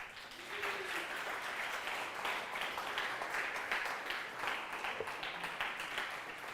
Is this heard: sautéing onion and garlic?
no